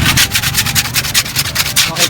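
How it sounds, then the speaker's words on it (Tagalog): Wooden speaker box for a 12-inch monitor being hand-sanded with 120-grit sandpaper: close, loud rhythmic rasping strokes, roughly six or seven per second, steady and continuous throughout. "nililihan na yung ating speaker box"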